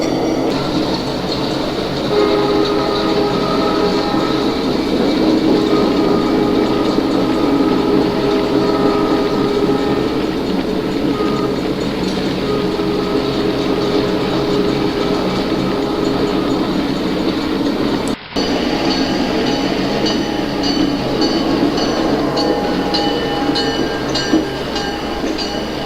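Model railroad GP9 diesel locomotives run along a layout near a car float, a steady loud mechanical drone and rumble with a faint horn-like tone, continuous throughout with one brief dropout.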